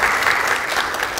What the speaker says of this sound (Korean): 여러분 박수 부탁드리겠습니다.